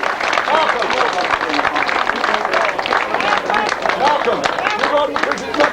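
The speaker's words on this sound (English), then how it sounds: "Well, let's give them a big round of applause then." Spectators at a grasstrack meeting clap for the 350 class race winners, a moderately loud patter of many hands mixed with crowd murmur and chatter, continuing steadily throughout.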